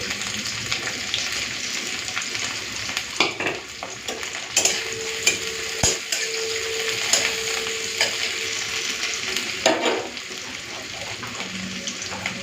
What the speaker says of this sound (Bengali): তেলটা গরম হয়ে গেছে দিয়ে দেবো পেঁয়াজ কুচি কাঁচা লঙ্কাগুলো দিয়ে দিই